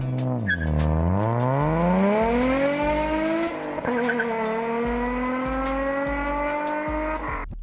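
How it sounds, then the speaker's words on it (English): A 1.6-litre V6 car engine revs up from low to high pitch, holding a smooth rising whine, with a steady mechanical drone underneath, loud and close. "Sound, pure V6."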